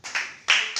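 Students in a classroom clap for a classmate, Komang Sinta Dani, in three short bursts of hand claps, close and moderately loud, with brief pauses between them.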